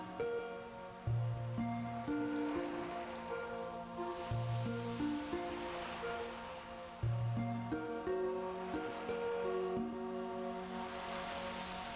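Gentle ocean waves at sunset in the game PMD: Explorers of Sky, with soft washing surges swelling and fading beneath a louder melodic music track.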